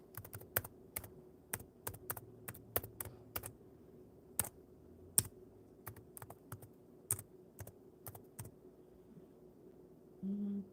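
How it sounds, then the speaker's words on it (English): Typing on a computer keyboard during a live chat: crisp individual key clicks in an irregular rhythm, close and fairly quiet, with a brief low rumble at the end and no speech. "Let me type in hello, my email address."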